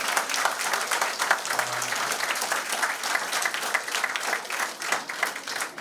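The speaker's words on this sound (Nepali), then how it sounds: "एकचोटि सबैले जोरदार ताली बजाउनु" An audience at a college carnival applauds, with dense, steady clapping filling the space from start to finish.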